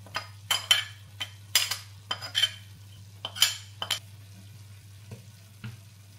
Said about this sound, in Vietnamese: lúc này á là mình bỏ xả ớt vô luôn mấy bạn